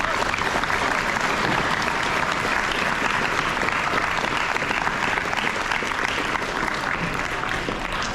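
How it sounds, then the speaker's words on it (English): A school audience at an 8th grade awards ceremony claps loudly and continuously for about eight seconds, a dense, even wash of many hands. "Let's give all of ourselves a round of applause."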